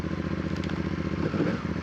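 A CF Moto CL-C motorcycle engine runs steadily close by, giving a continuous low, even idle with a regular pulsing rhythm and no talk over it.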